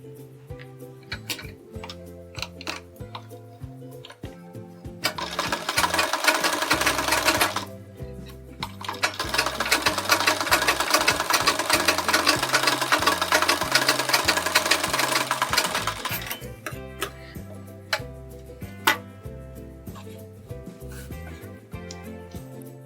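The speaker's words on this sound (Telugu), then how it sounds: "ఇప్పుడు ఈ చివరన ఒక స్టిచ్ వేసుకుంటూ రావాలి." A sewing machine stitches a sleeve seam, running in two sustained bursts of fast rhythmic whirring with steady needle ticking and mechanical clicks. Before and after each burst there is quieter start-up and stop clatter, and no voice is heard.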